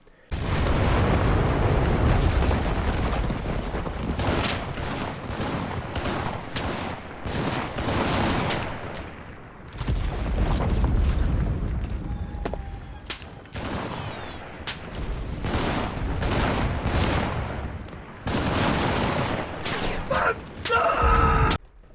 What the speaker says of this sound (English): starting out with the Type A automatic rifle